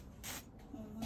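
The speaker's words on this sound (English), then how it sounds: "Now we're going to spray our pan with avocado spray oil." A short hiss of avocado oil spray from a can onto a pan, close by, lasting a fraction of a second over a quiet background.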